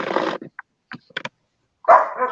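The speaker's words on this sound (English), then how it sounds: "My dogs are wound up." Small household dogs barking and yipping in short bursts, several close, loud yaps with brief whimpering sounds between them, separated by silent pauses.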